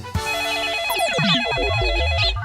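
A telephone rings loudly and continuously with a bright, repeating electronic ringtone, close by and uninterrupted, in the Nut Boltu cartoon.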